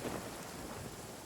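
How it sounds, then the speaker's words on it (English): Lightning crackle and thunder in Genshin Impact, a faint, steady hiss of rain and rumbling storm noise at very low level, continuous through the brief moment with no distinct crack standing out. "that lightning crackle sounded good"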